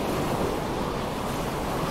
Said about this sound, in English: Now I think we are against the waves.